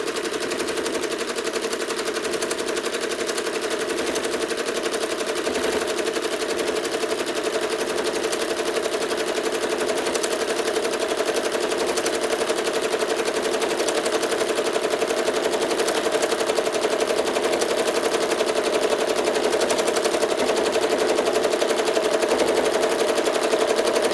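A sewing machine stitching in the ditch on a small sewn project with gray-green thread, running in one steady, uninterrupted whir with a fine rapid rhythm throughout.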